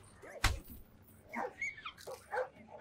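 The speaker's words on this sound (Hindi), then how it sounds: "बेटा, बहुत तेज हो रहा कुत्ता यार।" A dog in the stealth video game Splinter Cell Blacklist gives one sharp, close bark, followed by several short whimpering yelps and whines over faint background game ambience.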